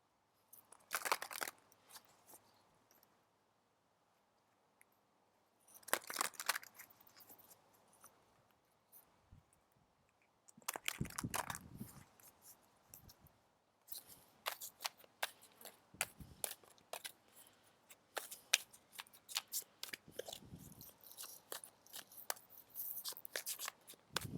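Oracle cards are shuffled by hand in several bursts of crisp riffling and flicking, separated by short quiet pauses and growing busier toward the end.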